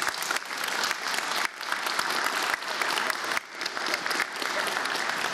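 Applause from an audience at an outdoor political rally, steady continuous clapping from a crowd that dips briefly a few times, with no voices over it.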